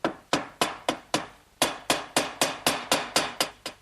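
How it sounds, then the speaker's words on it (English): Hammer blows drive glued quarter-inch hardwood dowels into pre-drilled holes in a wooden medicine cabinet, about a dozen sharp, close strikes landing in a steady rhythm with no talk. "Take these little 1/4-inch dowels and just put a little bit of glue on them. And then drive those in through my pre-drilled holes."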